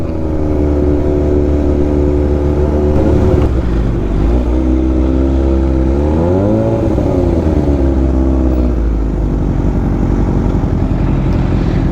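A motorcycle is ridden on a short ride in Pangasinan after rain, its engine droning loud and steady with a rise and fall in pitch as it revs, and no talk over it.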